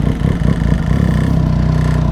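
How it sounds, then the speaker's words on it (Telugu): A Triumph Street Triple idles close by just after starting, a loud, even engine rumble with a rapid rhythmic pulse and light mechanical rattling from the hydraulic cam chain tensioner. "అది హైడ్రాలిక్ క్యామ్ చైన్ టెన్షనర్ ఉంటుంది స్ట్రీట్ ట్రిపుల్స్లో."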